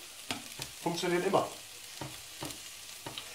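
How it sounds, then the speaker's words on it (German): Onions frying in a pan give a steady soft sizzle with a few clicks and stirring scrapes, while someone speaks briefly over it. "einfach Zwiebeln anbraten."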